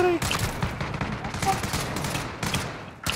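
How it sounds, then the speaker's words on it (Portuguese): Rapid machine gun bursts rattle in a first-person shooter game, several dense loud volleys close by, with someone talking over them. "É metralhadora, velho."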